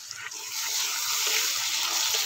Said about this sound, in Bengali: একটু এর মধ্যে জল দিয়ে দিলাম যাতে মশলাটা পুড়ে না যায়